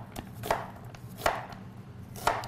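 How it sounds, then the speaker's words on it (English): A knife slices onions into strips on a cutting board, three crisp, evenly spaced chops close up with quiet gaps between. "We're going to take these onions. Like I said, we're going to cut some strips."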